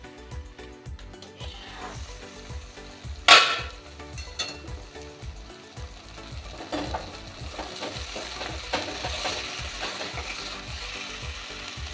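Eggplant curry with a little sugar cooking in a pan: soft sizzling and frying with repeated stirring scrapes and occasional clinks, fairly close and steady, with no talking.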